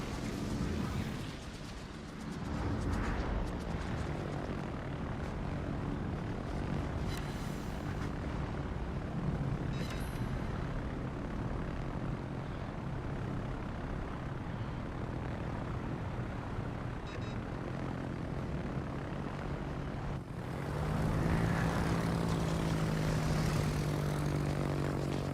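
Carrier aircraft drone steadily overhead in World of Warships, a continuous propeller-engine hum that swells louder near the end.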